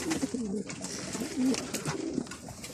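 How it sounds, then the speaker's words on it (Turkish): A flock of gathered pigeons coos while being fed, soft overlapping throaty calls repeating close by over light background rustle. "Bir sürü kuş topladık, güvercin topladık."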